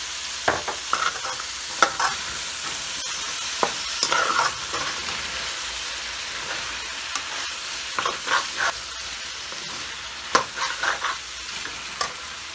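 Tomatoes fry in a hot pan with cumin and green chillies, giving a steady, close sizzle with sharp scrapes and taps of a spoon stirring at irregular moments throughout.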